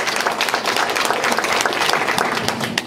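Audience at a sea-shanty concert breaks into loud, steady applause, dense clapping sustained evenly from start to finish with no voices rising above it.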